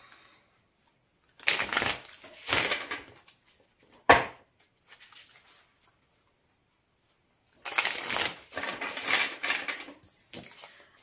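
A deck of tarot cards is shuffled by hand in several separate riffling bursts with short pauses between them, and one sharp tap in the middle. The sound is close and fairly quiet, with no talking.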